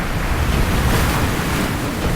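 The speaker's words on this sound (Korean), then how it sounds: "설상가상으로 파도까지 어마어마하게 거세진 상황." Heavy, rough sea surges around a fishing boat hauling octopus traps offshore, a dense, loud, continuous wash of waves mixed with wind noise and no voices.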